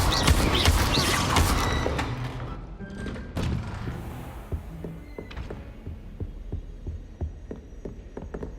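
An Incendio fire spell in Hogwarts Legacy erupts as a loud, roaring whoosh of flame, then fades over several seconds into a low hum with soft, irregular thuds.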